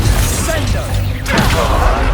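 The Confringo fire spell bursts in Hogwarts Legacy as a loud whooshing, crackling blast during a chaotic duel, with dense rumbling effects throughout.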